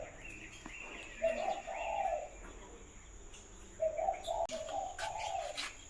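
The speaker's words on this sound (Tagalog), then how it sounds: "Yung dito, may mga ibon sila." Birds calling in short, bright bursts at moderate distance, with a soft cooing tone and quiet background ambience between calls.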